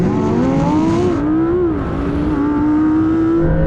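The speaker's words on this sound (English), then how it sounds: "Lambo's smart off the line." Lamborghini Huracán Performante launching hard in a drag race against a Porsche 911 Turbo S and Ferrari 488 Pista, a loud close engine roar climbing in pitch through the gears with a brief dip at a shift.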